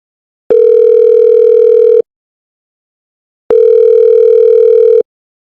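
A telephone ringback tone while a call is being placed, two identical loud, steady electronic tones about one and a half seconds long, separated by a silent gap, with no speech.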